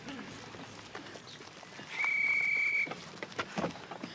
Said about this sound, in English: that was the first whistle, sir.